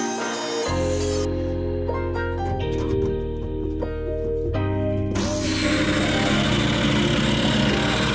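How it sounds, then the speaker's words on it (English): A power tool, a multi-tool or jigsaw, cuts through the metal side panel of a Citroen Relay L3H3 van for a vent window, giving a loud continuous buzzing whine that shifts pitch as it bites, then grows harsher. "The multi-tool got in there really nicely."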